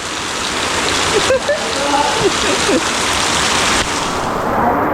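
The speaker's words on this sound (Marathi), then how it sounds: "गावाला पाऊस एकदम जोरदार सुरू आहे जोरदार म्हणजे भयंकर हा बघा एक नंबर पाऊस आहे" Heavy monsoon rain in a Konkan village, falling as a steady dense wash of drumming water and splatter throughout, with a few faint calls and a brief voice in the background.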